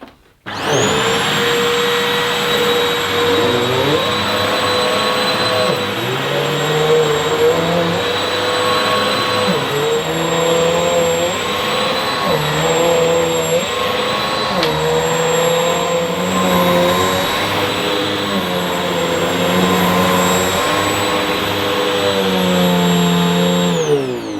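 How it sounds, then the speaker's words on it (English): A Hoover Reactiv vacuum cleaner starts up and runs for about twenty seconds, a loud, steady motor roar with a modest whine and slight shifts in tone as it moves. It stops abruptly at the end. "Although this Hoover Reactive is fairly noisy, it's not all that unpleasant. It doesn't have a very high-pitched whine."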